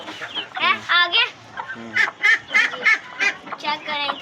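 Desi chickens clucking close by on a Pakistani home farm, a series of short, repeated clucks and squawks in quick bursts with brief pauses between, loud and clear.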